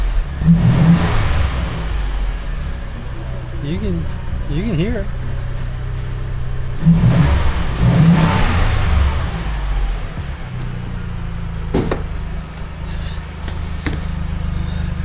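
A car engine fitted with new turbo pipes and a cold air intake revs up twice in strong surges, with short throttle blips between, close by and loud, while someone talks over it.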